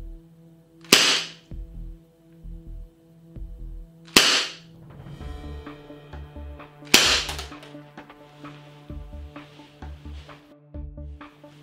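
A KWC Model 357 airsoft revolver fires BBs: three sharp, loud cracks spaced a few seconds apart, each followed by softer mechanical clicks and clunks of the cylinder, heard close up and alone.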